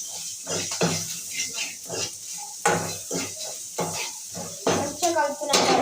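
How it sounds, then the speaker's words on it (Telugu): Ginger garlic paste being stirred into frying food in a pan, with repeated scraping and clinking of a utensil over a soft sizzle while a person talks. "కొంచెం అల్లం ఎల్లిగడ్డ మంచిగా కలుపుకోవాలి"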